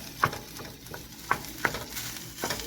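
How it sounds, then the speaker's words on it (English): Cooked rice being stirred into a hot frying pan for chicken fried rice, with a few distinct scraping clinks of the utensil over a low continuous sizzle, close and moderately loud. "So we're just adding our cooked rice and"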